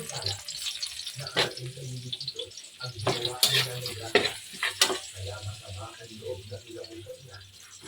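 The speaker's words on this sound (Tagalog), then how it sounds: "Itong gulay, halo ko na." Mixed vegetables are stirred in a hot pan, with a spatula scraping in irregular strokes over a steady sizzle and a faint murmur of voices in the background.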